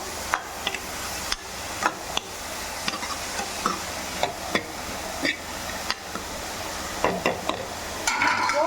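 Beetroot and chillies sautéing in a pan give a steady sizzle, broken by regular sharp clacks and scrapes as a spoon stirs against the pan, close up and without talking.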